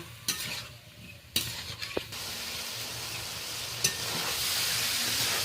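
Potatoes and prawns sauté with spices in a hot pan, a steady sizzle that builds louder, broken by a few sharp scrapes and knocks of a stirring spoon, with no talking.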